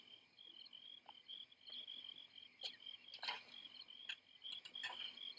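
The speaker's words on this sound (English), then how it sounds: "The crickets make rather a noise." Crickets chirp at night in a faint, continuous, high trill, broken by a few sharper, closer chirps and soft clicks against a quiet background.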